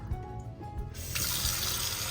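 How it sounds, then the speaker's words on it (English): Tap water runs into a clay pot being seasoned, starting with faint drips and trickles before the stream opens into a steady, close rush of filling water. "fill it with more water"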